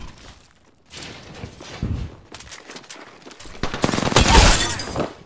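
Gunfire in a battle royale video game, bursts of shots and impacts building to a loud, dense stretch near the end, mixed with running footsteps and scattered crashes.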